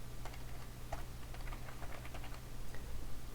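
Quick, uneven clicks of someone typing a name on a computer keyboard while working in an Excel spreadsheet, close and fairly quiet over a steady low electrical hum.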